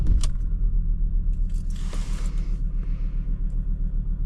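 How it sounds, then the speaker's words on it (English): Ford Ranger Wildtrak 3.2 diesel pickup heard from inside the cab as it starts, a brief whir and clatter settling into a low, steady, pulsing idle rumble. "So starting the car."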